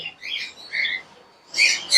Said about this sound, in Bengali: আর এদিকে আরও ককেটেল আছে